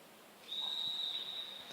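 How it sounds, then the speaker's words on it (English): One sustained, thin whistle blast sounds in a quiet velodrome to start a track cycling race at the 2023 AusCycling Junior & Masters National Championships, fairly faint and steady for about a second. "The whistle goes to start us off."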